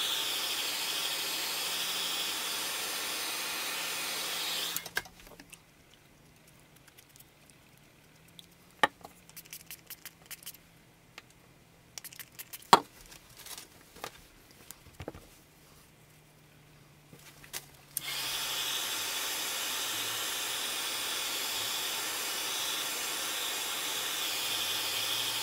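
A dryer blows a steady, loud hiss over a beeswax-painted canvas, then cuts out for a long stretch of near quiet with a few small taps and clicks before the hiss resumes at the same level.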